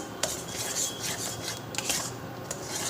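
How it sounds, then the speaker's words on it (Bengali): A spoon stirs and scrapes a mango and chhana mixture into a stiff dough in a bowl, making repeated rough rubbing strokes with sharp metallic clinks against the dish at a close, moderate level, with no talking. "ভালোভাবে নেড়ে একটু শক্ত মতো ডো তৈরি করব।"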